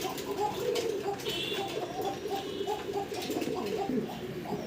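A pair of white Beauty breed pigeons coo in soft, repeated throaty phrases close by, over a constant background hiss, with no one speaking.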